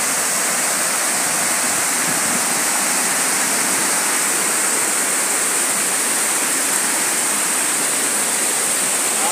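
Water pours down hard and steadily from a large outdoor shower, a loud, unbroken rushing hiss that fills the whole stretch with no talk over it.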